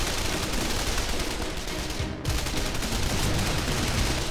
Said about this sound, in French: On va prendre une grenade. Et on va neutraliser la mitrailleuse.